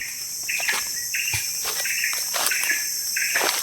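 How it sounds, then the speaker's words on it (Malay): Steady, repeated high chirping calls of birds in a vegetable garden, in a regular rhythm, several short bursts continuing throughout at a moderate distance, with a constant high hiss in the background. "suasana hijau dengan bunyi burung-burung berkicau"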